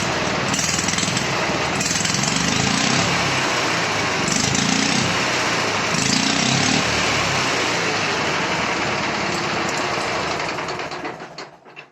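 A Prykarpatets mini tractor engine runs steadily at high revs with a dense, buzzy mechanical drone, swelling in a few periodic surges before cutting off at the end.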